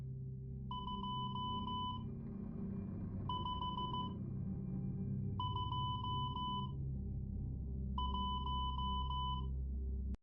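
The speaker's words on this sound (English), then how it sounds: "I'm going to send it in Morse code." Morse code beeps come in four separate bursts of rapid, clipped tones, each a quick run of beeps, spaced a couple of seconds apart over a steady low hum.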